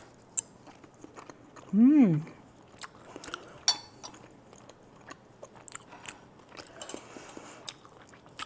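Bites and chewing of a thin, tender piece of garlicky sautéed veal in a Dijon cream sauce, close and soft, with a scrape of cutlery on a plate and a few scattered clicks.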